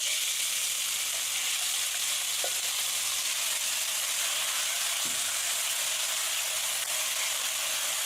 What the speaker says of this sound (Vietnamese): Dầu nóng rồi thì em sẽ phi cái hỗn hợp tỏi với lại sả ớt luôn.